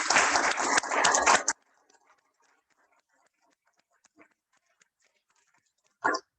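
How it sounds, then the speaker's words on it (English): Audience applause for student award recipients at a Rotary club meeting, a loud burst of clapping that cuts off abruptly, followed by near silence with a few faint stray sounds. "I'd like us all to give Rotary round of applause"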